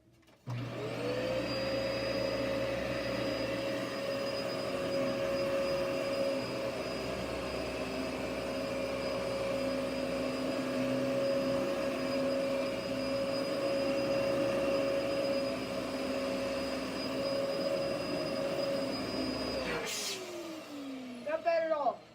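A Dyson vacuum cleaner runs on carpet with a steady, loud motor whine and airflow roar that holds for about twenty seconds, then cuts off and winds down.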